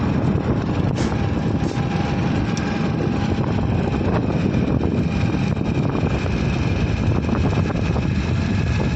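Strong outdoor wind in a village setting buffets the microphone in a loud, continuous broadband rush that surges slightly, with no voices.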